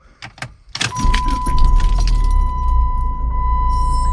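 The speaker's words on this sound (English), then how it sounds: "There we go, it started and idled down as it should" A Chrysler PT Cruiser, freshly fitted with a new idle air control valve, cranks briefly after a few clicks and catches, then settles into a loud, steady warm idle close by, with a faint tone above the engine rumble.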